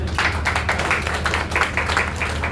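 An audience at a poetry gathering claps in a quick, uneven patter of many hands, a short burst of steady applause from a moderately close crowd.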